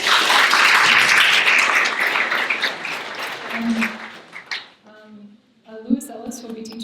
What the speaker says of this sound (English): So give him a round of applause really quick